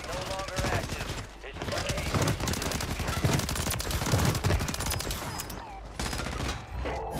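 Dense, continuous gunfire in Warzone 3, sustained automatic bursts and shotgun blasts layered together, loud and close almost throughout with a few brief dips.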